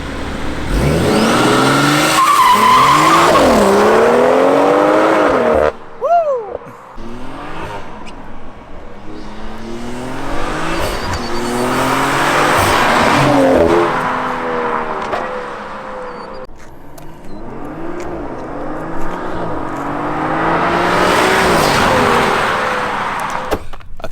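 A BMW 340i launches hard, its engine revving loudly through several rising gear pulls with tire squeal at the start, the roar close and dominant throughout the run.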